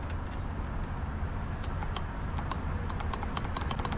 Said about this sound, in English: when you put a 12 volt in here, you can hear the clicking